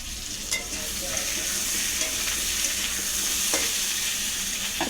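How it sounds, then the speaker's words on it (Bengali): Cut potatoes frying in oil with dried chilli and cumin in a pan, stirred with a metal spatula; a steady close sizzle runs throughout with occasional scraping strokes, no talking. "একটু খুন্তি দিয়ে নেড়ে নিলাম"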